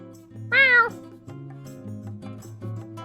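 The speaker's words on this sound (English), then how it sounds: "you can make your cat say meow for real" A single cat meow, clear and fairly close, rising then falling, followed by quieter background sounds.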